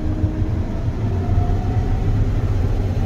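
John Deere swather engine running with a steady, low, loud rumble close by, holding at an even drone with no clear rise in pitch and no talk.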